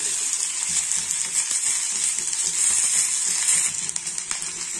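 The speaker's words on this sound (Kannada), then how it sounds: "ಹಸಿಮೆಣಸಿನಕಾಯಿ, ಶುಂಠಿ ಮತ್ತೆ ಬೆಳ್ಳುಳ್ಳಿ ಎಲ್ಲ ಚೆನ್ನಾಗಿ ಇದು ಫ್ರೈ ಆಗಬೇಕು." Onion, tomato, green chilli, ginger and garlic fry in oil for a gravy, giving a steady, close, fairly loud sizzle with light scraping and clinks of a stirring spoon throughout.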